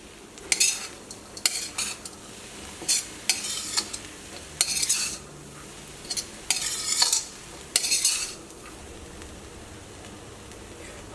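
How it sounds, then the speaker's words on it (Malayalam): A spoon stirs green gram thoran in a pan over a low flame, giving a string of scraping, rustling strokes in short separate bursts, with a faint sizzle between them and no voices. "രണ്ടാമതും ഒന്ന് ഇളക്കി കൊടുക്കാം."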